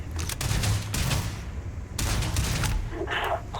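Rapid gunfire from a Starfield firefight, a loud burst of repeated shots with a short break near the two-second mark, then more shooting ending in a bright metallic ring.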